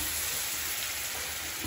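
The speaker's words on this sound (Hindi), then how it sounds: "पानी डाल देते हैं" Water poured into a pan of frying potato curry in a small room kitchen, giving a steady, loud hiss and sizzle that holds without a break and has no talk over it.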